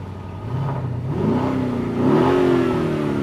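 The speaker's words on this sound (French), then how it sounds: "ça se sent quand tu appuies sur l'accélérateur, ça sent que ça a envie de partir, mais très fort" Luxury car engine in a Dubai showroom, revving as the accelerator is pressed while parked, a steady mid-pitched hum rising in two stages to a stronger, higher drone, heard close with no talking.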